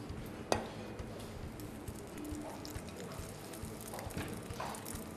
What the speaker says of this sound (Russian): характерный шипящий звук для масла, очень возбуждает аппетит